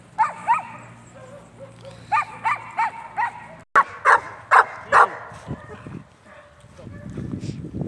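A dog barks repeatedly in short bursts, loud and close, with a few yips, followed by rustling noise and a voice in the background.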